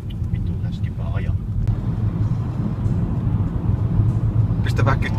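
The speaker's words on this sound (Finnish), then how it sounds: "Kuunnellaan moottori." A car engine in a racing video game drones and revs continuously at a steady level, with people talking over it.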